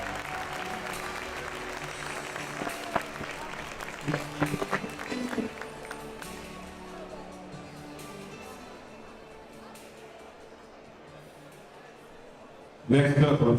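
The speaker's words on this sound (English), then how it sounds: "Ladies and gentlemen, one last final applause for our graduating seniors." Sustained crowd applause with some cheering for graduating seniors at a high school game, filling the gym for several seconds and fading before an announcer's amplified voice starts speaking.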